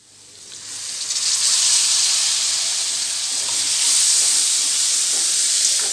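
Tomatoes frying in spice masala for pawta usal. A loud, steady sizzle and hiss rises within the first second and holds close throughout, with no talking.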